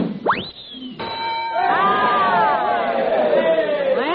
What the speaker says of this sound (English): he rang the bell